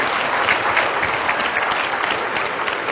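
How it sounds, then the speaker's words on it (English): Dense, steady applause from a seated audience honoring the panelists at a luncheon event, sustained and even for the full three seconds with no break. "can we get one last round of applause for our panelists"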